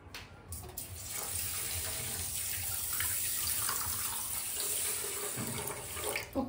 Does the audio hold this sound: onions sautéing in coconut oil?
no